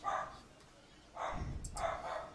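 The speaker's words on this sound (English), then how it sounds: "oh, my dog won't be quiet." A dog barks from another room in a couple of short bursts, fairly distant and muffled, with faint background voices nearby.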